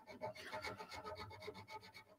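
Sandpaper rubbing over a dagger blade to remove scratches, a quiet, continuous rasping scrape in quick back-and-forth strokes, close and faint, with no voices.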